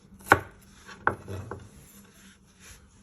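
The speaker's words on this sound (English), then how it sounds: "And just give it one final chop," A knife chops food finely on a board in a few sharp, close knocks, the first strongest, followed by softer taps and a brief scrape.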